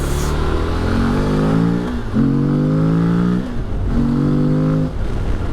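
Morbidelli T200V adventure motorcycle, a modest roughly 80 bhp bike, revving hard at full throttle through the gears to third, engine pitch climbing then dropping at each of two shifts; loud, close and steady, with no talking.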